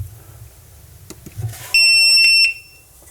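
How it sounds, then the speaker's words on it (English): An LSENLTY 4-in-1 CO and gas detector sounds its alarm in demo mode: after a few faint handling clicks, one loud, shrill, piercing electronic tone blares steadily for under a second, then cuts off. "I'm going to put it in demo mode for you so you can actually hear the alarm."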